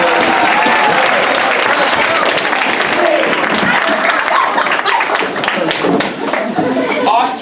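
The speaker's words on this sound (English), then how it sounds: "Give them a round of applause, the sophomores." A large audience claps and cheers for sophomores, dense loud applause with crowd chatter running steadily through the whole stretch.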